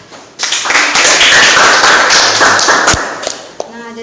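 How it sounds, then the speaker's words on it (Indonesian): Students in a classroom applauding after a group presentation, with a dense burst of clapping lasting about three seconds before it thins into a few scattered claps. "Boleh beri tepuk tangan anak-anak."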